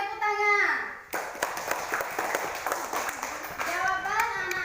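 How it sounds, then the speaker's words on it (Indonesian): Elementary school pupils in a classroom break into a burst of quick, uneven hand claps lasting a few seconds, with a teacher talking just before and again as the clapping fades. "Nah, tepuk tangan."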